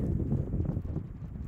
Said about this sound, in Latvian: tas vējš baigi pūš